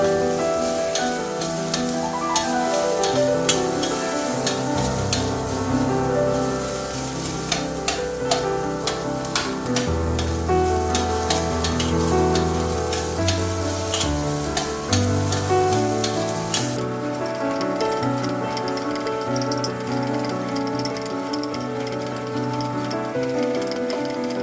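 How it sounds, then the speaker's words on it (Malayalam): Onions frying in a pan until browned, a dense continuous sizzle with scattered crackles and occasional stirring scrapes, close and steady with no talk. "സവാള നന്നായി വഴണ്ടു വന്നിട്ടുണ്ട്."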